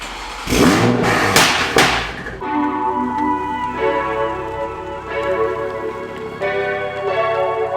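A Toyota Supra engine idles with a steady, harmonic rumble and small rises in revs as the car is pulled out, after a few heavy thumps at the start. No one speaks.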